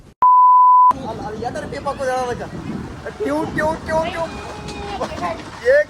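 A steady electronic censor beep, a pure sustained tone lasting under a second near the start, cuts in over a group of friends chatting loudly, and their lively overlapping talk continues after it.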